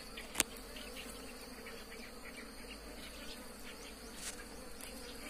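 Wild bees drone around a honey nest outdoors late in the honey season, a steady, faint, continuous buzzing with a few sharper clicks and taps.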